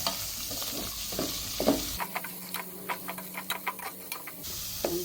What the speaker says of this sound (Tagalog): Lagyan na rin natin yung ating sibuyas saka luya.